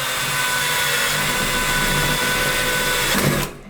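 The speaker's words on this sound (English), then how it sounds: "this time I'm going to drill the hole" A power drill bores a hole for mirror light fixture hardware, a loud steady whine running for over three seconds before winding down abruptly at the end.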